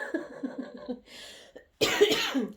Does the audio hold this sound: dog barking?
no